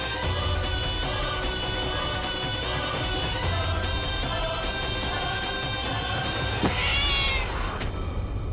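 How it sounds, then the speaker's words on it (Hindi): A cat meows once in a household scene of a Hindi television drama, a brief call heard late and partly buried beneath continuous loud background music. "वो एक बिल्ली पता नहीं कहाँ से आ गई।"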